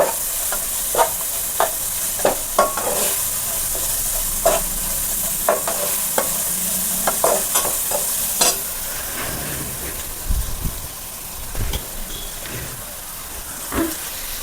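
Vegetable noodles with salt being stirred in a hot pan, a steady sizzle broken by irregular sharp spatula scrapes and taps against the metal, close and fairly loud, with no talking.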